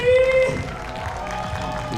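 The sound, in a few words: audience applause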